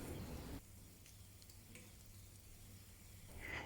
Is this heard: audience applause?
no